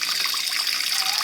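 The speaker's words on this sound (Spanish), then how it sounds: "vamos a proceder nuevamente a llenarla con agua proveniente de la llave" Tap water pours steadily from a kitchen faucet into a cooking pot holding about two litres, a continuous close hiss and splash with no voices.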